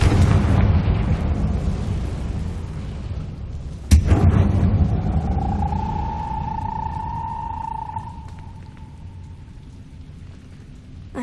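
A blast from the Confringo blasting spell in the video game Hogwarts Legacy: one sudden loud boom partway through, over a continuous low rumble, followed by a rising whooshing tone that fades away.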